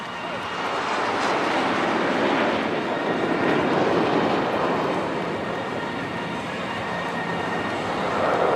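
Indian Air Force jets fly past in formation at the Chennai Air Show over Marina beach, a loud sustained roar of engines swelling and holding for several seconds, with a crowd murmuring underneath.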